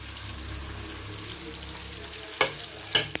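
Chopped garlic fries in a pan with capsicum and onion for chilli prawn, a steady close sizzle under light stirring, with two louder utensil knocks against the pan near the end.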